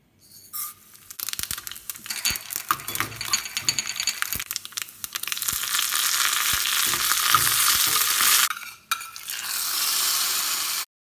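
Mustard seeds, dried chillies and curry leaves fry in hot coconut oil, crackling and spattering close by with sharp popping bursts that build into a dense sizzle, then break off briefly before resuming.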